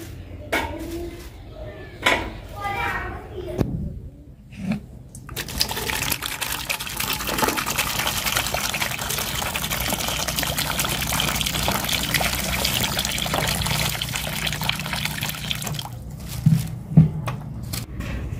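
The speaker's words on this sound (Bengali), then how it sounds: "তো জলপাইগুলো এখন একটু আমি ধুবো, ধুয়ে আর কি ফাঁকাবো" Olives washed in water, with a few separate clinks and splashes at first, then a long continuous rush of pouring, trickling water and a few more knocks at the end.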